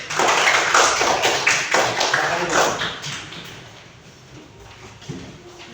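A classroom full of people claps together for a few seconds, then the applause fades into quieter shuffling and murmurs.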